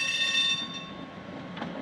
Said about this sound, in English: a train comes along and stops, thinking that I might be a passenger